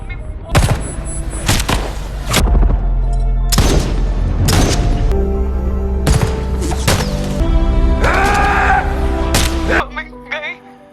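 Gunfire erupts during a terrorist ambush in an action film scene: loud, repeated bursts and booming shots hit in clusters over a continuous rumbling score, with voices and other scene sounds mixed in.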